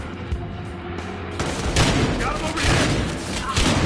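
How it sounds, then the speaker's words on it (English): Gunfire in Battlefield Hardline, a loud and steady barrage of rapid shots and booms that builds about midway and keeps going to the end, with voices talking over the shooting. "I'm trying to arrest you while people are shooting at me!"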